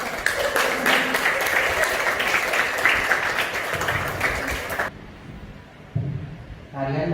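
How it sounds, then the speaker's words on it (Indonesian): Applause for a dancer named Nana after a kuda gimpang dance, a dense crowd clapping for about five seconds, then cutting off abruptly into near silence with a brief murmur of voices near the end. "Tepuk tangan buat Nana."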